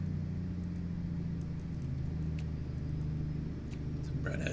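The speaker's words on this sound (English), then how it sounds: "Actually, the engine sounds pretty good." A truck engine idles and runs steadily in American Truck Simulator, a low continuous rumble with a faint hum that holds throughout, with a slight rise near the end.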